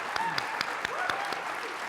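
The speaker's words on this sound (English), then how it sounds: "you can clap" Audience applause at a live interview event with Chris Cornell, a steady wash of clapping with a few sharper individual claps standing out, heard at moderate loudness with no talk over it.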